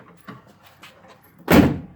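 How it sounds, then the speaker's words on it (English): A Jeep YJ door swung shut and latched, a single solid slam near the end, loud and close, preceded by a few faint handling knocks and clicks. "Door shuts and locks, no trouble."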